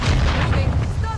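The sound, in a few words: mine explosion in Call of Duty: Modern Warfare II video game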